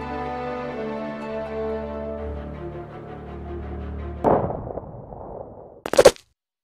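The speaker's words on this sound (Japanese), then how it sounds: "銃声。" Gunshots in the anime Shin Sakura Taisen: music fades, a heavy sharp blast cracks out with a trailing rumble, then after a brief silence a second loud burst snaps close by.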